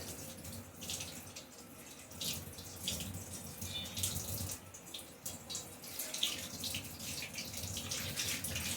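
A dinner plate is rinsed under a running tap, water splashing and spattering steadily into a sink with occasional clinks, close by and with no talk.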